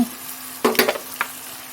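Frying onions in a pan as tomato and garlic go in, a soft sizzle with a few brief stirring scrapes and splashes, no voices.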